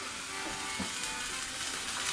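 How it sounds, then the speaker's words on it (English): A buttered Swiss cheese sandwich sizzles steadily in a hot pan, a continuous close frying hiss with faint crackles throughout, no talking. "Our pan's getting nice and hot. A nice sizzle going on."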